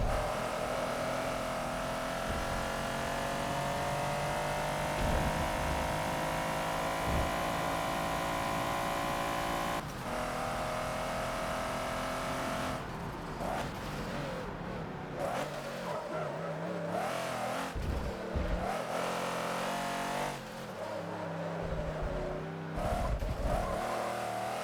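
A race car's engine roars and revs continuously in Forza during a spec racing series finale, with the throttle blipped through shifts; the droning note wavers and drops, then choppier lifts and tire noise come in the later half.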